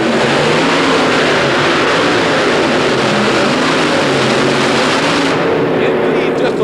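The War Wagon, a modified pulling tractor stacking three engines, roars at a 1992 indoor tractor pull in a New Orleans arena. The engines hold a loud, sustained, dense roar throughout, with an announcer talking over it.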